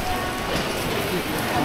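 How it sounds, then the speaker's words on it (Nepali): Rain falls steadily at a street market, a continuous even hiss that fills the short clip with no clear talk. "ओहो पानी पर्यो"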